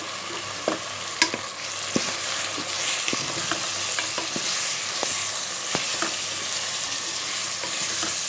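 Tomatoes and spices sizzle in a pressure cooker for mutton pulao, with a loud, steady frying hiss broken by repeated sharp clicks of a spoon stirring against the pot.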